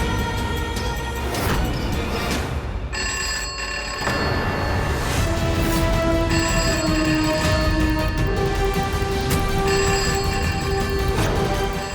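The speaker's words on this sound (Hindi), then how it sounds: "पता नहीं सुबह से कौन फोन करके परेशान कर रहा है।" A telephone rings repeatedly in a household drama scene, its electronic ringtone sounding loud and continuous over background music with no one speaking.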